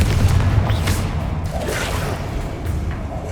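A Confringo fire spell explodes in Hogwarts Legacy, a deep booming blast that rolls into a crackling, rumbling tail of debris over a few seconds, loud and close with no talking.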